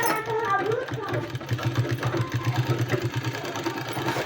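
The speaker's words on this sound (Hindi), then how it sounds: "इसमें इस तरह से सिलाई लगा देना है" A sewing machine stitches palazzo pant fabric in a steady, rapid run of low mechanical pulses. Its continuous whirring hum lasts the whole span at moderate volume, with no voices heard.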